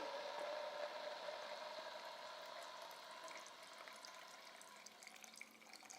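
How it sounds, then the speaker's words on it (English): Water is poured through a Joepresso disperser screen into an AeroPress, a steady close splashing trickle that thins slightly toward the end, with no voices. "I'm going to pour some water through it, and we're going to see how this disperses the water."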